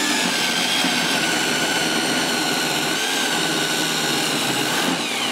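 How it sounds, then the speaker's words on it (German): A power drill bores a 32 mm hole 6 cm deep into a wooden beam with a professional drill bit, a loud constant whirring grind that holds steady for several seconds, no voices. "Jetzt bohre ich das, den Balken mal insgesamt an."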